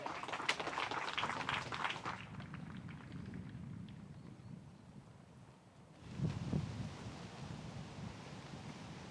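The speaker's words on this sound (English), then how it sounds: "There's some wind." Wind gusts across an outdoor disc golf course during a women's pro tournament round, a steady low rushing roar with a louder gust at the start and another swell near the end, no talk.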